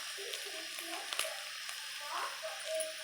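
Bay leaves frying in hot oil in a pan, a soft steady sizzle with faint crackles, quiet and close, no talking.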